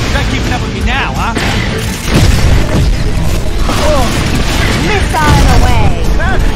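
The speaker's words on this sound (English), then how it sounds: "Missile away!" A missile launches and explodes in the Cars 2 video game, with booming blasts and a rushing roar over busy racing noise. Voices talk over the action throughout.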